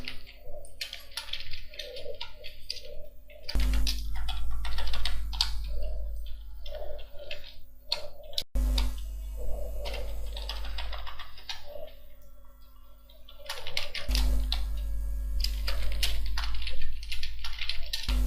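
Data is typed into an Excel spreadsheet on a computer keyboard: bursts of quick, crisp keystroke clicks separated by short pauses, fairly close, over a faint steady electrical hum.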